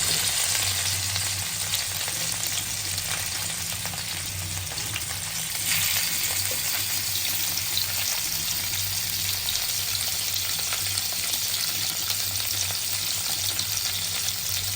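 Steady, even sizzling of tilapia fish frying in oil over low to medium heat, a dense crackling hiss that carries on without a break and with no talking.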